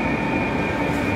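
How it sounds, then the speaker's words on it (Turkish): An intercity train at Berlin's main station gives off a loud, steady rumble with a sustained tonal hum, like a train running close by with no break in the noise. "Bir de Berlin'in içinde şehirler arası trenler buradan kalkıyor ya."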